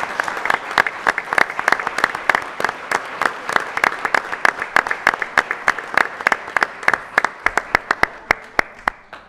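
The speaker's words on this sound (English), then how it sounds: "let's give them all a big round of applause" A city council audience applauds a middle school presentation with a brisk, even run of claps, close and loud, thinning out toward the end.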